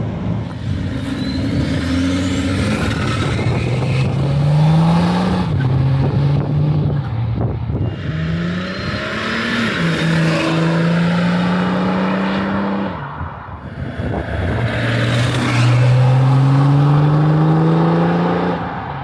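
A tuned BMW X5 35d diesel SUV on a drive, its engine droning steadily from inside the cabin and rising in pitch through several gear changes, with road and wind noise underneath.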